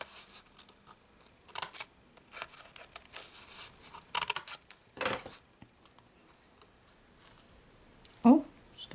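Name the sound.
scissors trimming small paper pieces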